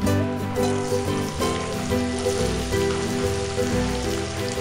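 Finely chopped onion, about two cups, hitting hot oil in a pan while cooking a wild monsoon greens bhaji, giving a steady loud sizzle and crackle throughout, close up with no talking.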